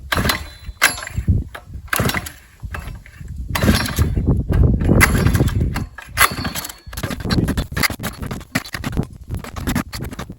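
The starter cord of a gas-powered ice auger is yanked several times, each pull a short rasping, ratcheting burst with brief pauses between, close by, and the engine never catches.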